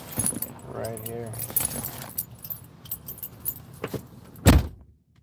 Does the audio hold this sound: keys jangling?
yes